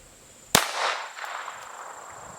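A Walther P22 pistol fires a single .22 Long Rifle round into a block of hickory wood outdoors, one sharp, loud crack with a brief echoing tail, alone without talk.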